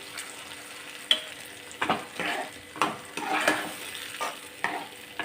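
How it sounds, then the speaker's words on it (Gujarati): A spoon stirs okra curry in a pan as a yogurt gravy is mixed in, giving irregular scraping strokes over a soft sizzle, close by and with no talking. "અને સરસ રીતે આપણે ભીંડાના શાકમાં મિક્સ કરી લઈશું"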